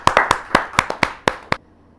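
Hand claps from the audience at a televised Hindi kavi sammelan (poetry gathering) welcoming a poet: about nine sharp, close claps in a quick uneven rhythm, then a sudden stop into near silence.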